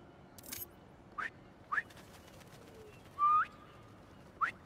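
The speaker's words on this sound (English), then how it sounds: "Try a whistle." Bird-like whistles in the Spider-Man 2 video game, several short separate chirps and one longer whistle spaced across a quiet background.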